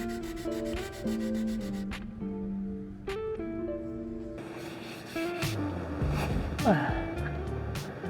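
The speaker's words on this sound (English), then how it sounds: "Just gonna do that by hand, and then I'm just going to sand them down, 320." Hand sanding the tops and edges of wooden furniture with 320 grit sandpaper, a steady close rubbing rasp that runs under a tonal musical background.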